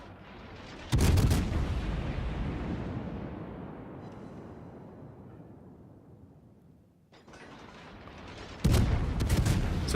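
A torpedo strikes a warship in World of Warships, with a heavy boom whose rumble fades over several seconds, followed by another loud blast.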